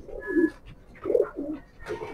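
A 2013 racing pigeon coos up close in three separate rolling phrases, each a low, soft warble with brief pauses between.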